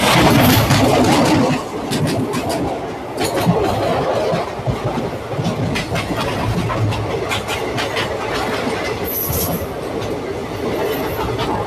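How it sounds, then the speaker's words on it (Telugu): An Agartala to Charlapalli express train rolls past close by at Tilaru, its loud, steady clickety-clack of wheels and wagons continuing without a break, with faint high squeals and no talking. "అగర్తల నుండి చర్లపల్లి వెళ్ళే ట్రైను"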